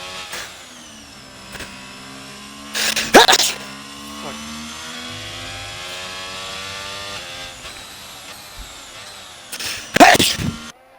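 A sudden sneeze bursts out twice during a Singapore sim race, once near the start and again toward the end, over a steady whining race-car engine drone.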